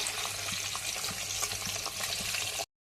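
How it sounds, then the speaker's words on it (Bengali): Small fish frying in oil in a pan, giving a dense, steady sizzle with faint crackles and pops throughout, fairly quiet and free of talk, then cutting off abruptly. "ছোটো মাছগুলো ভেজে নিচ্ছি"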